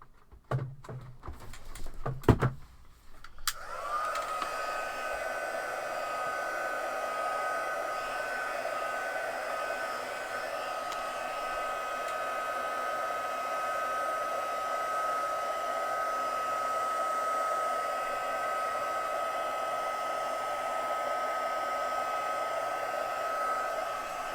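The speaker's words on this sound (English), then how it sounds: "I'm just going to dry it from the back with my heat gun" A heat gun drying a craft piece from the back, after a few clattering handling knocks, switches on and blows with a steady, loud, even whoosh and whine that holds unbroken to the end.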